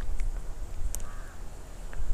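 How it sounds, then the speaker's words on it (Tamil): Crows and other birds call at a temple, with a few short caws and chirps that are faint against steady outdoor background noise. "பறவைகளோட சத்தம் அவ்வளோ அருமையாக இருக்குது"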